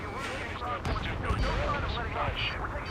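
Rapid gunfire and explosions from aerial combat in the video game Ace Combat 7, a steady dense barrage with bursts of firing layered under voices talking throughout.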